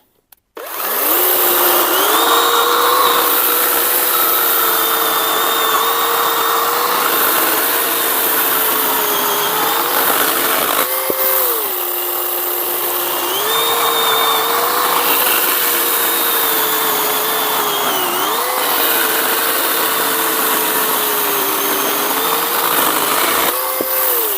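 A Grosser GCS 120SF cordless saw cuts through dry elm in a loud, continuous whine that rises and sags under load, with brief pauses between passes.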